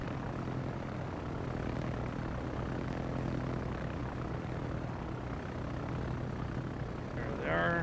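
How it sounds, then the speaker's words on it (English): Steady droning aircraft engines from carrier planes in a naval warfare video game, a constant layered hum with a faint rising whine near the end. "Let's see if the carrier brings more planes out."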